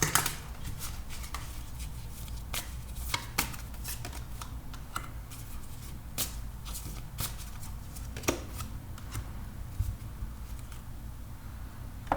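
Tarot cards being shuffled at close range, a run of crisp, irregular riffling snaps and flicks that keeps going throughout under a low background hum.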